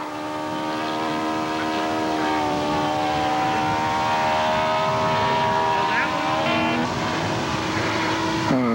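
A Club Sport radio-controlled model airplane with an NU-46 four-stroke engine drones steadily overhead, its engine tone wavering in pitch as it passes, with people talking in the background.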